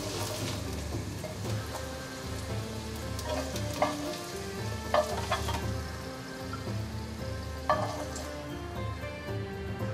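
Shiitake mushrooms seasoned with soy sauce pan-fry until golden, a continuous close sizzle of oil with scattered scrapes and ticks from the pan.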